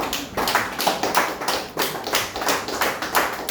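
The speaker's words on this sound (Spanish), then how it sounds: "Denle aplausos al Señor." A church congregation clapping together in a steady rhythmic beat, many hands at once, loud and close, with no speech over it.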